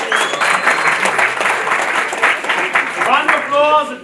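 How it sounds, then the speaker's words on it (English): A business-pitch audience applauds steadily for a contestant, with dense continuous clapping and some cheering voices throughout, tapering slightly at the end as a few voices come through. "A round of applause if you think fish is the guy."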